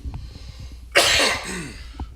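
One harsh cough bursts out close up after a short pause, followed by a raspy trailing breath, with faint background noise around it.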